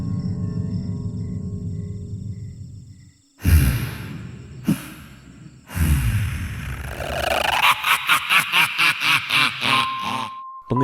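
Heavy, rapid panting from someone fleeing in a night-time chase on a dark street in a horror drama, with harsh gasps that turn into a quick rhythmic series of breaths near the end.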